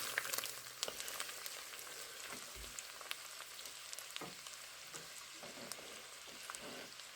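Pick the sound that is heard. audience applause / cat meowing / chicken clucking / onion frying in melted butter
onion frying in melted butter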